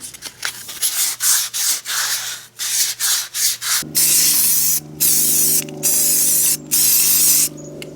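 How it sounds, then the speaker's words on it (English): Sandpaper smoothing drilled holes in a board: quick rhythmic back-and-forth rasping strokes, close and fairly loud, shifting midway to longer, heavier scrubbing passes separated by short pauses. "just use some sandpaper and kind of smooth it all out"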